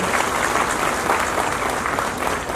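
Steady audience applause at the closing of the Mahalakshmi Saras 2026 fair, cheering the state-level team; a continuous wash of many hands clapping at moderate volume throughout.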